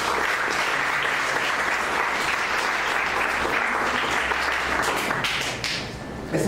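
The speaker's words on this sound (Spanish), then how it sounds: "Denle una ofrenda de palmas a Él." A church congregation gives a sustained, loud round of applause during a sermon, dense clapping holding steady for about six seconds before dipping slightly at the end.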